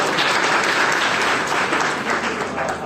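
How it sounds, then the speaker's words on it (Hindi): Audience applause in a college Hindi department lecture hall, a dense, steady wash of many hands clapping that stays loud and even throughout with no voices over it. "तालियां बजाइएगा।"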